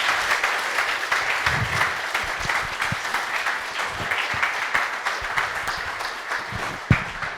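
A conference audience applauds the four speakers together, a dense, steady clapping that carries on evenly throughout, with one louder clap standing out near the end.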